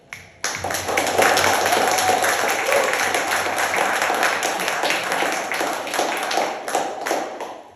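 An audience at a panel discussion on abolition, community control and mass resistance breaks into sustained applause, steady clapping that starts abruptly and holds loud throughout, with a few sharper claps near the end.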